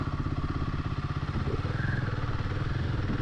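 A Royal Enfield Himalayan motorcycle engine thrums while riding, a loud, close, rapid low pulsing beat that holds steady throughout with a rough mechanical clatter on top.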